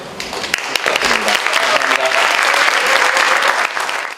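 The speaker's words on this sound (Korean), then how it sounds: "여러분 박수." Audience at a business talk applauding as a vegetable shop owner is invited forward, a dense and loud burst of clapping with some crowd noise that holds steady for several seconds before cutting off.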